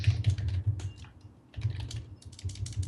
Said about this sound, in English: I'm typing for you.